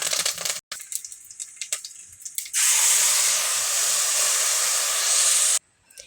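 Scraping and small clinks, then a loud burst of sizzling hiss as spices, dried red chillies and curry leaves hit hot oil for a peanut chutney tempering, holding steady for about three seconds before cutting off.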